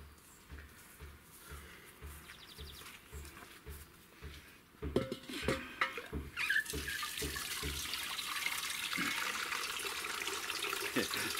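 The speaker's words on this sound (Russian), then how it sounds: "Вот так здесь набираем воду." Water runs from a tap to fill a container, starting as a quieter rhythmic trickle before a fuller, louder continuous gush takes over, with light clattering of a vessel and no one talking.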